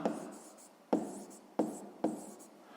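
A pen scratches out an answer in a notebook during a 6th-grade maths lesson, four quiet close strokes each starting with a sharp attack and trailing off, with no talking.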